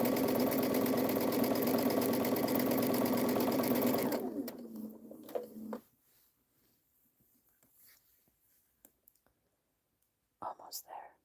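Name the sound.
sewing machine stitching quilt squares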